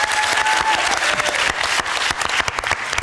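An audience at a Norwegian youth party leaders' debate in 2018 breaks into loud, sustained applause, a dense crackle of many hands clapping throughout with no voices on top.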